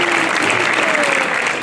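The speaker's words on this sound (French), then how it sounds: "je crois qu'on peut les applaudir" Crowd at a village patron saint festival applauding singers who performed the Marseillaise after mass, a brief, loud burst of clapping from many hands with faint voices mixed in.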